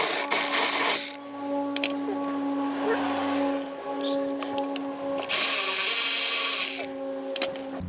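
Power tool loosening the brake caliper bolts on the rear of a 2011 Toyota Sienna, with loud whirring bursts at the start and again near the end and a steady tonal hum between them, close by.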